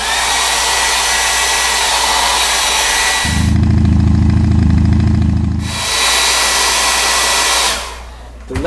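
A hair dryer blows a steady loud roar over a freshly painted piece, cutting to a deeper, lower-pitched blast partway through before returning to the higher whoosh, then switching off at the end.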